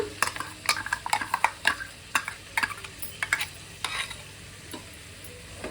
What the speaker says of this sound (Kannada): ಇವಾಗ ಮಸಾಲೆ ಹಾಕಿ ಒಂದು 2 ನಿಮಿಷ ಇದನ್ನು ಫ್ರೈ ಮಾಡಿದ್ದೀನಿ.